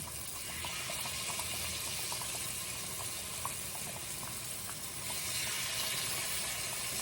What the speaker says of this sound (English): I'm fixing to just spoon it in here, and it should sizzle